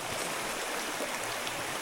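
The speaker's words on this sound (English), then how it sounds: "We made it to a river and we're gonna try these leaves and we're gonna wash our hands with this water." River water flowing, a steady, fairly loud broadband rush of current that holds evenly throughout with no voices.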